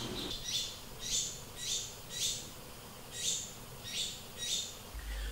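A hungry baby sparrow calls insistently for its mother, a run of shrill, evenly spaced chirps repeating roughly every half second, clear and fairly close against a faint background hum.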